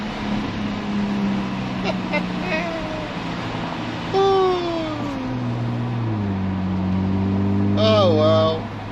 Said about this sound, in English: you've got to like it's a sports car, you've got to enjoy the noise